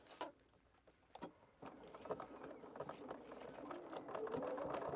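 A sewing machine stitches with a quiet, steady mechanical whir that grows slightly busier and louder over a few seconds, with faint background sounds.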